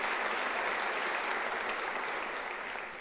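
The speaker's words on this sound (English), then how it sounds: "Can I request we give a round of applause?" Audience applause at a university's official academic-year opening ceremony, a full, dense round of clapping from a large crowd, steady and fairly loud, tapering slightly at the end.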